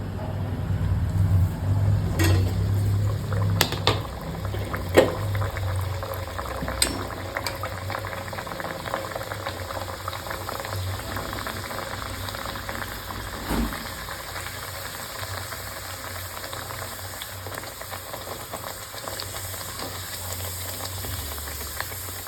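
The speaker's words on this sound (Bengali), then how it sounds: "সমস্ত লুচি বেলা হয়ে গেছে এবার আমি ভেজে নেবো" Beetroot luchi deep-frying in hot oil, a steady bubbling sizzle that runs continuously with a few sharp clinks early on, close and without talk.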